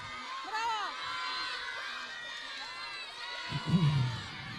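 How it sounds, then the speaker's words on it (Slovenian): Young children cheering and shouting excitedly during a learning quiz game, a burst of lively voices rising near the end over a steady crowd murmur, with an adult voice also present. "Kakšno navijanje!"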